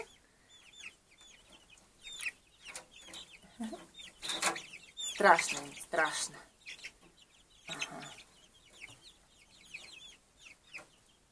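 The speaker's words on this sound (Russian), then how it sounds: "Какие уже большие наши куры несушечки, цыпляточки." Laying hens and growing chicks in a backyard coop cluck and peep in quick, overlapping bursts, fairly close and busiest in the middle, while someone talks over them.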